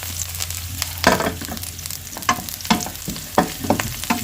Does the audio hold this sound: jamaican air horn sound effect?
no